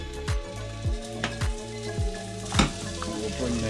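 Bacon sizzles in a pan on the hob, a steady crackling hiss broken by a few soft regular thumps, with tonal music running underneath.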